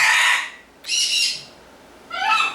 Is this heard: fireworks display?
no